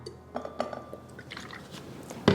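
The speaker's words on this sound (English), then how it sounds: "Add our water." Water is poured into a simmer pot holding fruit slices and vanilla, giving soft trickling and splashing with a few light drips. A brief louder splash comes near the end, and no one speaks.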